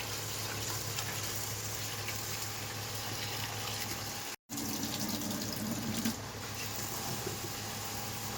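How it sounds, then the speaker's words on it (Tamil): Steady rush of tap water running into a container, continuous and close, briefly cut off mid-way before resuming. "தண்ணி பிடிச்சி வச்சுணுமா?"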